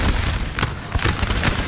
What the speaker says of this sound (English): We're going to see some replying fire from France.